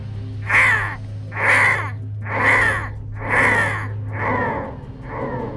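Crows caw loudly and close by, six harsh calls in a steady rhythm about a second apart, with a low steady hum underneath for most of it.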